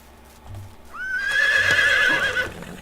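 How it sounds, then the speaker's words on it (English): Horse in the game Medieval Dynasty gives one loud, close whinny that rises and wavers for about a second and a half, with soft hoof clops beneath it. "Donkey was not nearly as loud as the horse."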